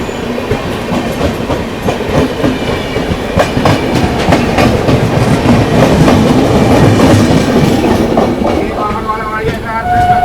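The Humsafar Express (12595, Gorakhpur to Anand Vihar) runs along the tracks, heard from on board as a loud, continuous rumble with rhythmic clickety-clack of wheels over rail joints that grows slightly louder midway.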